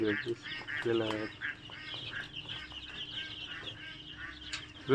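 Young chicken chicks at a poultry farm in Raozan, Chattogram, peep and cheep in a busy, overlapping chorus, with a few louder clucks up close, all under steady background talk.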